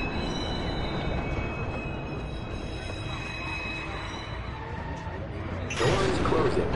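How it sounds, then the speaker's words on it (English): A subway train in the Watch Dogs game rumbles into a station, a steady low rolling roar with a thin high whine, then a brighter burst of noise near the end as it pulls in. "Northbound train arriving shortly."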